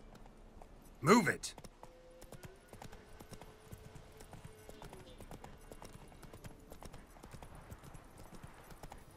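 Hooves beat in a rapid clip-clop in the video game Witcher 3: Wild Hunt, fairly quiet and continuous, while someone briefly shouts near the start.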